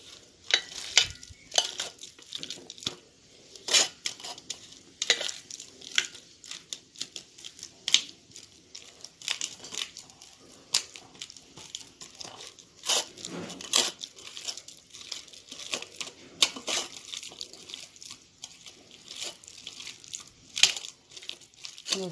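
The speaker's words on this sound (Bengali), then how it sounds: "হাতে চটকে চটকে মেখে নিই" Raw green banana is mashed and squeezed by hand for bhorta, producing irregular wet squelching and crackling bursts, close and intermittent throughout.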